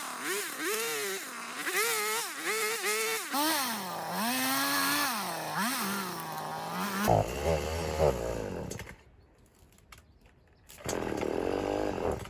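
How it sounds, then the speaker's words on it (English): A chainsaw cuts through a thick bush, its engine revving up and down in wavering surges, then bogging into the wood before dropping to a lull and roaring back. "Maybe need a bit of chainsaw action here."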